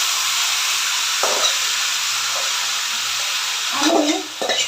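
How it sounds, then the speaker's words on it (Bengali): Leafy greens tipped into a pan of browned onions and chilies set off a loud, steady sizzle and hiss, with a few brief stirring scrapes near the end and no talking. "এখন হচ্ছে আমি দিয়ে দিচ্ছি এটার মধ্যে শাক।"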